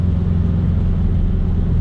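Supercharged Subaru BRZ engine pulling hard under acceleration, a dense, steady low rumble with a continuous roar that holds level and strong throughout, heard from inside the car with no talking.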